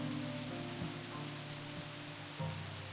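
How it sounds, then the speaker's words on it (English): Rain falls in the VRChat world as a faint, even hiss that runs unbroken, with a few soft low thumps underneath. "Sorry, the rain was really loud."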